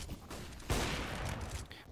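Blind gunfire in Counter-Strike: Global Offensive during a competitive esports match: a sharp burst kicks in partway through and rolls into a dense, sustained rattle of rapid shots that carries loudly to the end.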